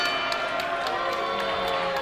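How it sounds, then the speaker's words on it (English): A wrestling crowd at a London show roars and cheers after a ladder powerbomb, a dense, steady wall of voices and shouts with scattered whoops, loud and sustained throughout. "Listen to that crowd."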